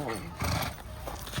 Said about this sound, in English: Ozzie, it's a donkey.